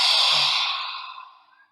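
A single long, deep exhale during a guided yoga breathing flow, a breathy airy rush that starts full and tapers off over under two seconds, close and alone with no talking.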